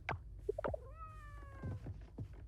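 Cats in the farming game Coral Island give several short meows in quick succession, close and clear, including one longer drawn-out mew over soft background music.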